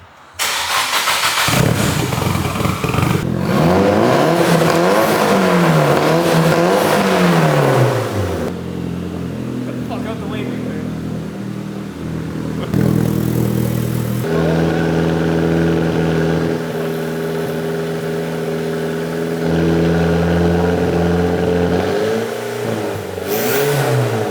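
A Nissan S15 Silvia with a Tomei titanium exhaust, engine started and revved by hand, rising and falling in several swells before settling to a steady idle, loud and close with no talking.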